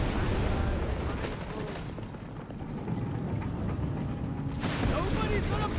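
Canister shot fire in a Company of Heroes 3 battle: dense, rumbling cannon blasts and crackling gunfire roll on throughout, with a voice talking over the din.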